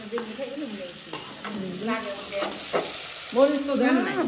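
Hilsa fish sautéing with spices in a pan, a steady soft sizzle with scraping stir strokes at intervals, while women sing and chat over the cooking.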